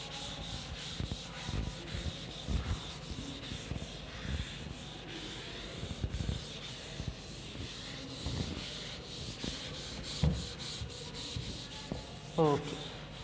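Someone rubs writing off a board with a duster in a classroom, making soft scratchy swipes in short repeated bursts. The sound is faint to moderate, with a few louder knocks and scrapes.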